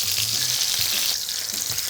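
Small spicy shrimp cake patties sizzle and crackle steadily in a hot frying pan, a continuous close-up fry with light stirring or shifting noises, no talking.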